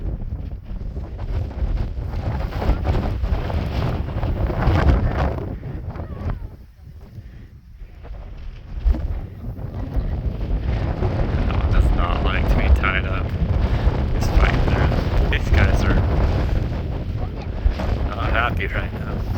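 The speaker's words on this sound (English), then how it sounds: "See that wind kicking up" Strong wind buffets the microphone in a continuous, loud roar over Sahara sand dunes near a desert camp at Merzouga, Morocco, with brief lulls and people talking nearby.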